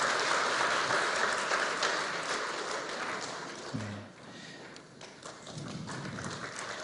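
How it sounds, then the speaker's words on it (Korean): A church award ceremony audience applauds, steady clapping from a room of people that fades out after a few seconds, followed by scattered taps and quieter clapping. "박수 부탁드립니다."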